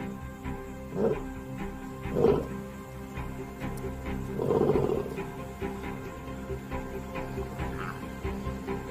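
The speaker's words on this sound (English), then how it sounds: "The roar can be heard over 8 kilometers away." Lions roaring at night as a pride regroups in the dark, three deep, rumbling calls around one, two and five seconds, the last one longer, over a steady low background hum.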